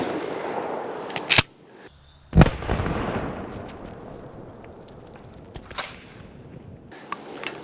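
Two loud, sharp blasts from a Mossberg 590A1 12 gauge pump shotgun firing 3-inch double-aught buckshot at an outdoor range, each followed by a rolling echo and decay, with a faint distant pop or two afterward.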